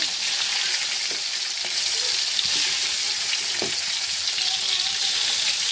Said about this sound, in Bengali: তাই ইলিশ মাছ ভাজা হোক